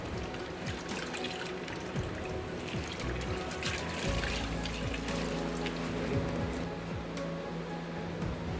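Water trickles and pours onto a coffee bag to dampen it before it goes on top of a worm farm bin, a steady close splashing and dribbling that continues throughout with no talking.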